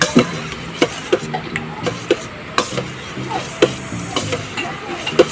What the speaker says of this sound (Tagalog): Kaya ayan, haluin muna natin